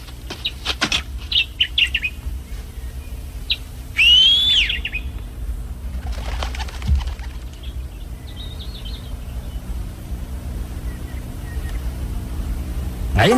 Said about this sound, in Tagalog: Yung kumakantang ibon.